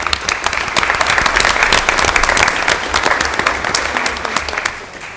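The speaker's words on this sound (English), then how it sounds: "Let's give these guys a round of applause." Loud, close audience applause at a city council meeting honoring Special Olympics athletes, a vigorous, sustained burst of many hands clapping that eases slightly toward the end.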